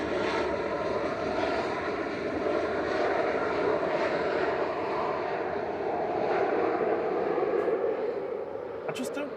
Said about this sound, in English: This is Swiss coming in from Zurich with flight 380